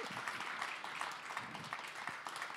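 An audience applauds two guest opera singers at a talk event, steady scattered clapping heard faintly at a distance for a few seconds.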